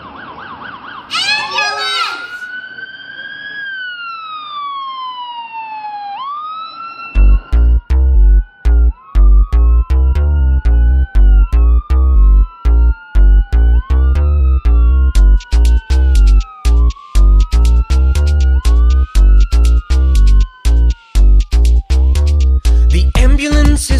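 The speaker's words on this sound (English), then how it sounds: "Her sirens blare, her lights go flash" A loud wailing ambulance siren sweeps up and down repeatedly, as if rushing past, following a brief high cry at the start.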